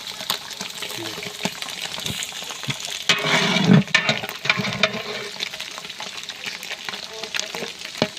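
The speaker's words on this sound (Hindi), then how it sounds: "कीमे को अच्छे तरीके से पकाना है प्याज और ऑयल में" Minced meat keema frying with onion and oil for keema pulao, crackling and sizzling steadily in the pan with scraping stirs and a louder burst of hiss midway.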